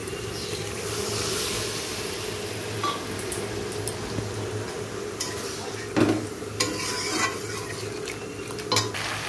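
Vegetables, potatoes and prawns sautéed in a pan with spices and mustard-poppy paste: a steady sizzle runs throughout, with repeated scrapes and clinks of a spoon against the pan, no talking.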